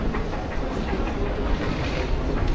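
An Istanbul metro train in motion, a loud, continuous low rumble and roar of the carriages running along the track, heard from on board with no talking.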